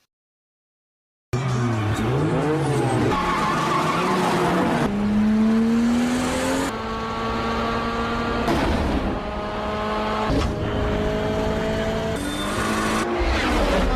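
Street race cars from the 2001 Fast and the Furious film rev hard at the start of a night street race, with rising engine whines, gear-change steps and tire squeal over a steady loud roar and no talk.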